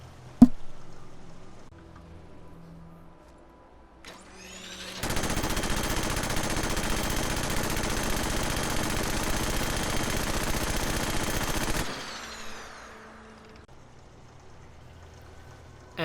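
Minigun fire from Fallout 4 with a shredder muzzle and overhaul mod, a dense continuous roaring burst lasting about seven seconds after a brief spin-up, loud and close, then winding down into quieter game ambience.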